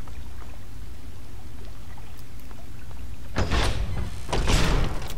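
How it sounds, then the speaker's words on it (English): A door slams in Fallout 3, a heavy metallic bang with a rattling tail, followed by a second crash a moment later, loud over a low game ambience. "Sound of the door slamming scared the shit out of me"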